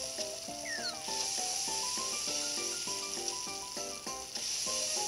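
Bacon, onions and potatoes sizzling in a pot in the video game Cooking Mama 4: a continuous bright hiss runs under cheerful, plinking game music.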